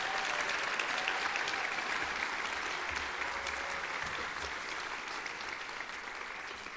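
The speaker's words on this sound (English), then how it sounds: "Let's give all of our graduates a round of applause." Audience at a business school graduate hooding ceremony applauds the graduates, a steady, dense wash of clapping that fills the hall throughout and fades slightly toward the end.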